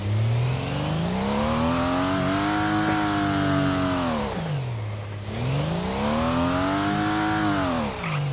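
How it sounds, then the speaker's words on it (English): A 2026-spec Formula 1 car in the Stormworks game, on a test lap of a GP circuit, with a loud, steady engine note that climbs and holds high, dips sharply as it slows, then revs back up again, with no talking. "Let's take it around for a test drive around the GP circuit for a few of them test laps."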